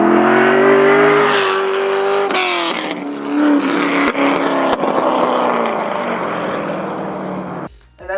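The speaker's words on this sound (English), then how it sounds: "I'll play an audio clip right now of a big cam V8." A big cam V8 engine revving loud and close: a deep, lumpy roar climbs in pitch, holds near full throttle, then rumbles and drops off at the end, with no voices over it.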